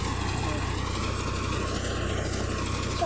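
Tractor hauling through a ripe wheat field at harvest time, a steady low engine drone running continuously at a constant moderate level with a faint higher whine on top.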